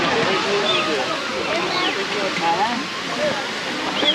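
Tatlıca waterfalls in a canyon at Erfelek, Sinop, give a steady rushing roar of falling water, with voices talking over it.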